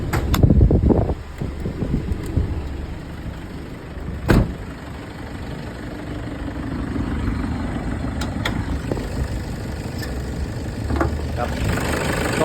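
A 2.5-litre diesel engine of a Toyota Hilux Tiger D4D idles steadily and low in the background, with wind buffeting the microphone and occasional clicks and bumps nearby.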